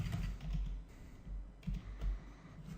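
Faint, close keystrokes tap on a computer keyboard in quiet bursts over a soft background hum, with no talking.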